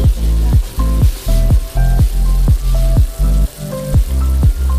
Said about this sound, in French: je vais les faire dorer aussi un tout petit peu avec la viande